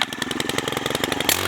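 A Stihl FS 131 R four-stroke string trimmer runs close by, its engine giving a loud, steady, rapidly pulsing drone, with a brief rise in pitch near the end.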